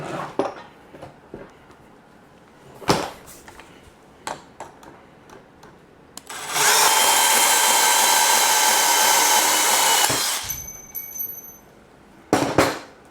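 A steady high-pitched power drill whirring drone runs for about four seconds, loud and continuous, after a series of scattered clicks and taps, during assembly of a ToughBuilt garage cabinet.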